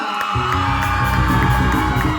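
A crowd at a live norteño music show cheers and whoops loudly over deep, pulsing low-end sound, forming a continuous noisy roar for a couple of seconds.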